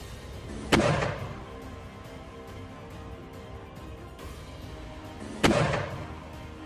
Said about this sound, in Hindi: इसके बाद हरियाली के बीच टेंट नुमा शेल्टर बनाकर अल कासिम के 2 लड़ाके रॉकेट दागते हुए नजर